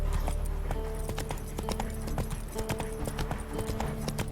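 Roach, Geralt's horse in The Witcher 3, trots along with a quick, steady clip-clop of hooves over a dense bed of ambient game music.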